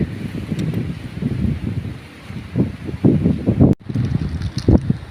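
Dry winter wind in Israel gusts against a microphone in uneven rumbling bursts, rising and falling over a few seconds with one brief cutout, outdoors and close.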